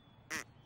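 A cartoon duck quacking in a children's show, two short, nasal quacks a moment apart, loud and close against a quiet background.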